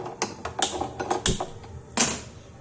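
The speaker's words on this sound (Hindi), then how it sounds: "एक अदरक का इतना सा टुकड़ा ले लें और उसको कूट लें।" A small piece of ginger pounded by hand in a kitchen, heard as a run of sharp, irregular close knocks and crunches, several strong hits spaced through the clip with no talking.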